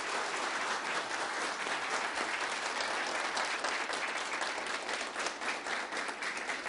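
Audience applause greets a Turkish folk music master at a live radio-style broadcast, a steady dense wash of clapping that holds loud and even for the whole stretch.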